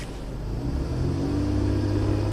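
A Nissan Xterra engine revving up from idle, a deep rumble that swells and holds at a steady higher pitch, loud and close, with no voices.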